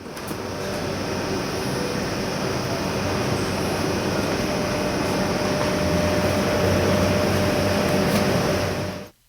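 Inside a TGV Réseau train bound for Brussels, a steady rolling hum and rumble fill the carriage at an even level, easing off briefly at the very end.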